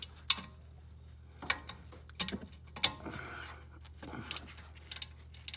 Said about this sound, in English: We're gonna go ahead and crack it loose with the ratchet here.